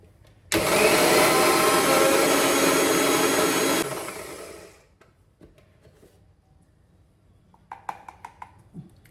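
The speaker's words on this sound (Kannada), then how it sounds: "ಈಗ ನಾನು ಇದನ್ನು ಮಿಕ್ಸಿ ಮಾಡ್ತೀನಿ ನೋಡಿರಿ" A kitchen mixer grinder runs loud and close for about three seconds with a harsh whirring roar, then winds down to silence, followed by a few light clatters.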